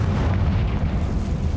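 A Confringo fire spell explodes in the Hogwarts Legacy video game, a dense, low roaring blast that rumbles loud and unbroken for under two seconds with no clear attack.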